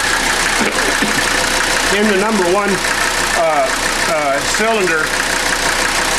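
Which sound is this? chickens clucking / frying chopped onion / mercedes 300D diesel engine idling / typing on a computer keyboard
mercedes 300D diesel engine idling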